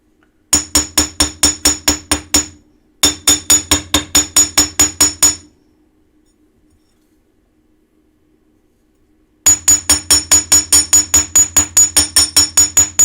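Sharp metal hammer strikes in three fast, even bursts of about a dozen blows each, with a short pause and then a longer silence between them, ringing and close, as annealed metal is hammered to half its thickness.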